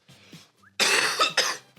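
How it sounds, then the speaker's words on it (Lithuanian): A man gives a few harsh coughs up close: a short throat sound first, then two loud, rough bursts in quick succession. "Palauk, vėl atsikosiu."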